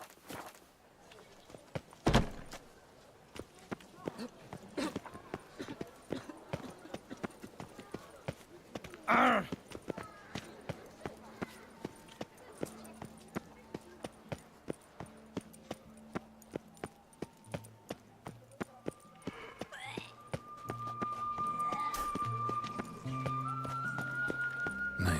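Horse hooves clip-clop steadily at a quick pace in The Witcher 3 video game, an even run of close, sharp beats, joined later by soft sustained music tones.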